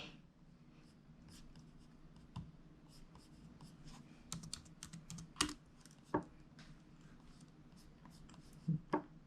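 Soft, quiet typing on a computer keyboard at a desk, with scattered clicks and a few sharper key taps against a low background hum, nobody speaking.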